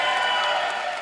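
An election night crowd in Wilson County cheers and applauds in a dense, continuous wash of voices and clapping, loud and close for a brief moment.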